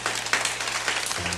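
A church congregation claps for God during a service, a brief, dense, steady burst of applause from many hands filling the room.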